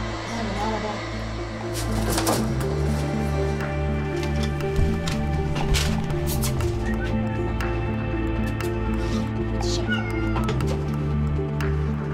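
Cats meowing at an animal shelter, the cries rising over a steady low hum and background bustle, with voices speaking throughout.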